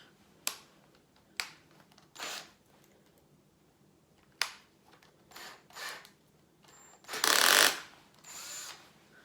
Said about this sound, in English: So that my drill isn't going in other directions.